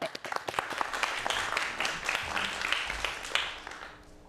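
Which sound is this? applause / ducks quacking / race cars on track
applause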